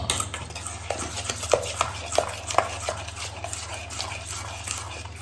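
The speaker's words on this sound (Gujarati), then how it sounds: "સારી રીતે મિક્સ કરી લઈએ એકવાર." A spoon stirring and mixing sev khamani ingredients in a bowl, giving repeated soft scraping and light clinking taps against the bowl at an uneven rhythm, close and fairly quiet over a low steady hum.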